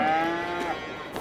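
A single cow moos in Farming Simulator 22, one long, loud, close call lasting about a second that tapers off at the end, with no other sound around it.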